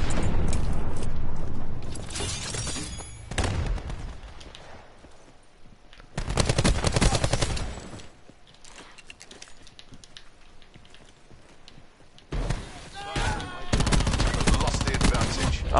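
Gunfire in a console shooter game, arriving as several loud bursts of rapid shots separated by quieter stretches of background game sound, with occasional faint voice underneath.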